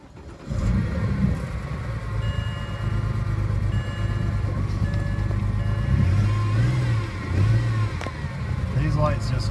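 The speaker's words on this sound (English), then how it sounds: "how to diagnose a BMW with the N54 engine when it's misfiring" A BMW 335i with the N54 engine running with a misfire, a loud close engine idle and rev with an uneven, lumpy low drone; a person talks over it briefly.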